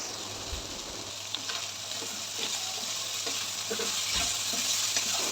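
Vegetables seasoned with salt and black pepper cook in a hot pan for chicken vegetable pasta, giving a steady close sizzle with occasional soft stirring sounds and no voices.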